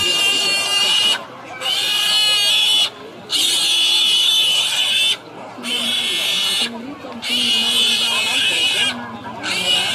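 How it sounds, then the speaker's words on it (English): Loud, shrill pig squeals repeat in long bursts with short gaps between them, up close, over a steady background of crowd noise at a village gathering. "Pigs squeal."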